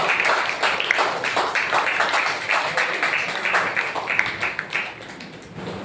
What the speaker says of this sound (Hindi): आइए जोरदार ताली एक बार परमेश्वर के जोरदार ताली